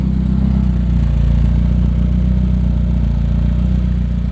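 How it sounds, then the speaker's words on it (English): BMW E30 idling through blast-pipe exhaust tips, a steady low burbling rumble with an even pulsing throb, close and loud with no talking. "so this is how the car sounds idling"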